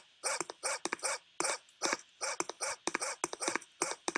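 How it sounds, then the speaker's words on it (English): Dog barking sound effect in a Unity game scene, a rapid series of repeated barks with short gaps, fairly close and moderately loud, with no talking. "dog barking, and that's because I'm near the object"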